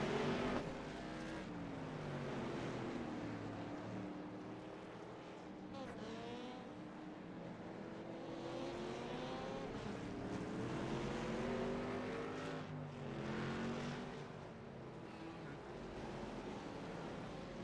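Race cars lap a track at a destruction night race, engines whining and swelling past in waves at a distance, fairly faint, with a commentator talking over them.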